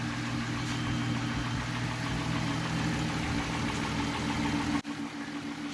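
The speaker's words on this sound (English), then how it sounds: "she's idling pretty well" A VW Bora VR6 engine idles steadily just after its first start following a clutch kit and gearbox install, a close, even mechanical hum with a low rhythmic throb and a brief dip near the end.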